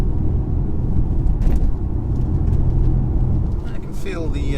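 A 2022 BMW 118i, a front-wheel-drive car in eco mode, is trail-braked into a tight corner, and its engine and road noise make a steady low rumble inside the cabin, with faint tyre chirps near the end.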